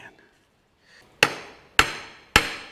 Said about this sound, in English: I think we're gonna have to hit it on with a hammer.